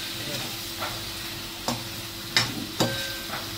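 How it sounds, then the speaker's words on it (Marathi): Eggplant pieces coated in masala sizzle in a pan, with several distinct scraping stirs of a spoon against the pan spaced a second or so apart over a constant frying hiss. "व्यवस्थित मस्त असं परतून घ्यायचं"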